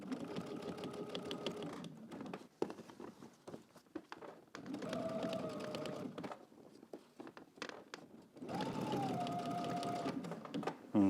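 A sewing machine runs in three steady bursts of stitching in the ditch along the band of a polo shirt, each run a few seconds long with short pauses between and faint handling noise.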